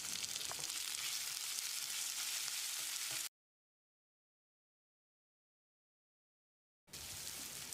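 Chopped onion and a small chopped tomato frying in a pan give a loud, continuous sizzle that cuts out to silence midway, then resumes just as strongly.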